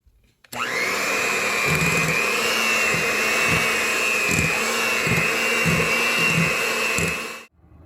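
An electric hand mixer whirs steadily for about seven seconds as it beats sugar, cream cheese and butter for a Lotus cheesecake, loud and close with a faint rhythmic thump from the beaters. It starts and stops abruptly.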